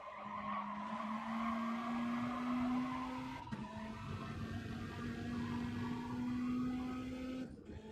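An onboard race car engine at Monza in a racing video game, a sustained steady high whine held at near-constant pitch, with a short break partway through and a faint scraping texture underneath.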